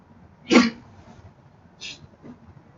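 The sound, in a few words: sneeze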